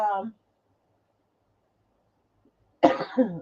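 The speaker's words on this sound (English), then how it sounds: "y'all gonna hear me coughing today" A person coughs twice, a short rough burst at the start and another harsher, louder one near the end, separated by near silence and heard close up.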